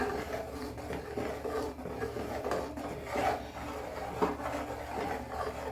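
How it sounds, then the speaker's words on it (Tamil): Sweet pongal with poured ghee is stirred in a pot, a soft continuous scraping and rubbing with a few slightly louder knocks, close by and faint. "நெய்யை நல்லா ஊற்றி கிண்டி விட்டுக்கிறோம்."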